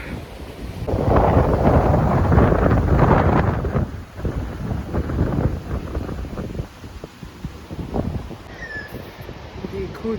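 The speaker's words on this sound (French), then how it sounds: "Il y a grave du vent" Strong gusting wind buffeting the microphone outdoors in the Blue Mountains, loud rumbling bursts that rise and fall with softer stretches between.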